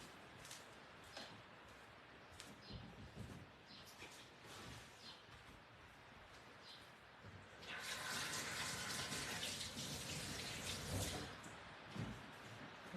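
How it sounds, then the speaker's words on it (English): Running tap water pours over hands being washed after sticky glue work, starting as faint trickles and then gushing louder and steadily for several seconds before easing off. "I'm just going to wash my hands."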